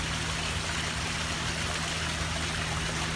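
A garden pond waterfall splashes in a steady, even rush of falling water, close and unbroken, with a faint low hum running beneath it.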